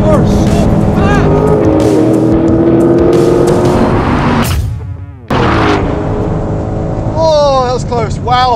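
Ford Mustang Shelby GT500 roaring under hard acceleration in a drag race, loud and close with rising engine pitch through gear changes, a brief dip in level, then revving again; someone talks excitedly over the engine.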